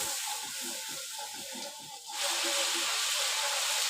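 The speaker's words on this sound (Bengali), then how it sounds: "একটু জল দিয়ে দিলাম মশলাটা এখন ভালোভাবে কষে নিই" Water hits hot spice paste in a pan while cooking a fish and gourd-shoot curry, and a loud, steady sizzling hiss swells up abruptly partway through, with faint background noise before it.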